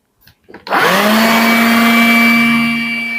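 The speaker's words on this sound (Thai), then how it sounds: "เป็นทั้งเครื่องดูดฝุ่นนะครับแล้วก็เป่าลมนะครับในตัวนะครับ" A cordless vacuum cleaner that doubles as a blower starts up after a brief click and whirs loudly and steadily at close range, a high motor whine holding constant with no talk.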